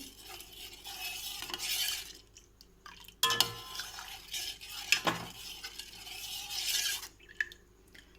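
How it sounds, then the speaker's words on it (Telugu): Half a litre of milk, cooked with cardamom powder for homemade junnu, is stirred in a pot in steady scraping, rubbing strokes with occasional utensil knocks against the metal, and no talking. "కలుపుతూనే ఉండాలండి."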